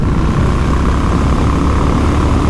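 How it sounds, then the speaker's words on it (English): Triumph Speed Twin 1200 motorcycle fitted with a 39-tooth rear sprocket, accelerating hard on the throttle at highway speed, a loud continuous engine drone mixed with heavy wind roar. "I roll on the throttle,"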